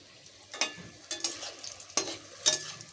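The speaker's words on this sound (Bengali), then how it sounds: "গোল গোল করে কেটে রেখেছি, এগুলো ভাজবো এখন" Round-cut vegetable slices, potato or pointed gourd, fry in a pan, giving a quiet sizzle broken by four sharp clattering bursts of stirring or placing, spaced about every half to one second.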